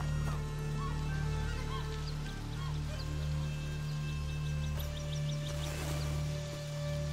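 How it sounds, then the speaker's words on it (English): Seagulls in A Plague Tale: Requiem call in a few short, faint cries over a steady low rumble of ambient sound. "Seagulls!"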